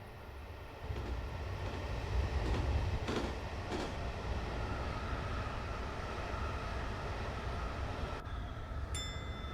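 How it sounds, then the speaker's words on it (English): A Tokyo commuter train runs in the Train Sim Classic simulator, producing a steady, loud rolling rumble with faint rhythmic track knocks that holds throughout, ending with a few high electronic tones. "Oh, there we go. We got a train."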